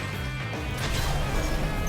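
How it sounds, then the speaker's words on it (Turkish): Thrown object smashing and breaking apart in the Astro Bot video game, a dense loud crash with scattering debris and clatter sustained across the short moment, game music and effects underneath. "Bunu fırlattık o da kırıldı."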